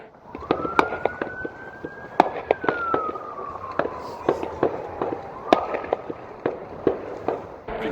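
Fireworks crack and pop in rapid irregular bursts during a 4th of July celebration in Juneau, Alaska, some sharp and near, others distant, while a siren wails steadily underneath.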